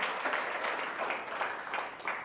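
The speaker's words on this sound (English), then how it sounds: "let's give our current and incoming officers a round of applause" An awards banquet crowd applauds its current and incoming officers with steady, moderately faint clapping that continues evenly throughout.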